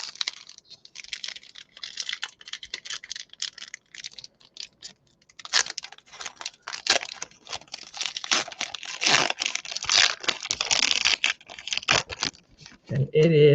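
Die-cut gold refractor trading card pack being torn open close by, with steady crinkling and tearing of foil wrapper that grows busier midway, ending with a brief voice.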